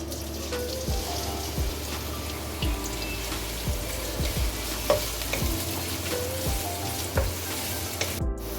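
Steady sizzling of sliced onion frying in hot oil, with occasional scraping and stirring sounds; close and constant with no talking.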